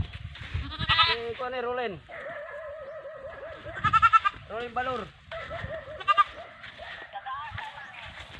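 Four goats bleat loudly and repeatedly close by, their wavering cries overlapping with people talking nearby.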